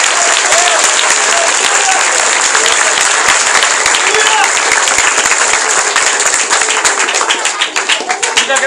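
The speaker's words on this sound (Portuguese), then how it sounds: "Pode aplaudir bem forte." Loud, dense applause from a large crowd, steady throughout, with a voice faintly audible underneath.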